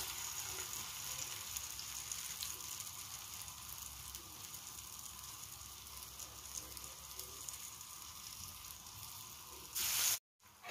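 Patties resembling taameya deep-fry in hot oil, giving a soft, continuous hiss and fine crackle that stays even throughout, then a short louder burst and a sudden cutoff near the end.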